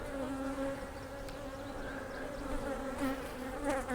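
Honeybees buzz steadily in an opened hive during a queen check on a queenless split, a dense, continuous drone close by with no talking.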